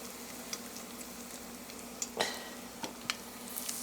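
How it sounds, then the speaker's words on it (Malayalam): Malabar egg box, a bread box stuffed with egg filling, frying in hot oil, a steady crackling sizzle with a few sharper pops and spatters, close and alone. "ഓയിലോട് ചൂടായിട്ടുണ്ട്. നമ്മുടെ ഈ ബ്രെഡ് ബോക്സ് ഇങ്ങനെ ഇട്ട് കൊടുക്കാം."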